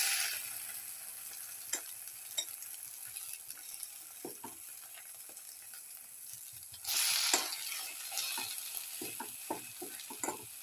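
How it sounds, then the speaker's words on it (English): Black pepper and cilantro omelette frying in a pan, a soft, continuous sizzle with scattered clicks and scrapes of a utensil, swelling into a louder hiss briefly midway. "And let it fry."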